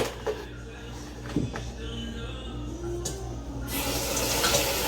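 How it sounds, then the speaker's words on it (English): Cabbage being rinsed under a running kitchen tap, the water splashing faintly at first and then gushing louder near the end, close by, with a few clunks and some background voice. "let me rinse off this cabbage real quick"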